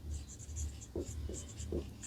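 A pen scratches across paper in a few short strokes while a maths problem is worked out, quiet and close against a low background hum.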